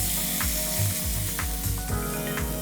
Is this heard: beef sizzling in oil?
yes